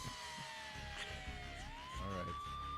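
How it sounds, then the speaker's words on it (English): An emergency vehicle siren sweeps down and then rises again, steady and moderately loud in the background, while people talk faintly beneath it. "There's sirens going off, Glenn."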